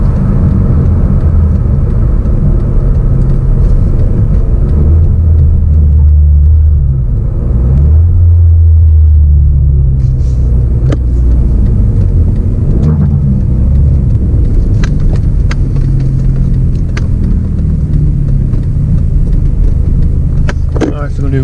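A Hyundai Veloster Turbo under hard acceleration, its engine a steady loud drone with rising rumble and road noise throughout, with a short lull partway through, heard from inside the car with brief clicks and taps over the engine.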